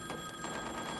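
A telephone rings in a scene from the 1997 film Jackie Brown, one steady close ring filling the moment with no talk over it.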